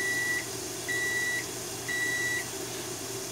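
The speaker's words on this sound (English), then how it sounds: "Don't you hate it when you miss it and it just beeps at you?" A kitchen timer goes off while food cooks, giving three evenly spaced electronic beeps over a faint steady hum.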